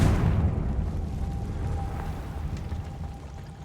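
A Confringo blasting spell in Hogwarts Legacy: a loud, low explosive boom at the start that rumbles and slowly fades, followed by a faint ringing tone and soft crackling debris.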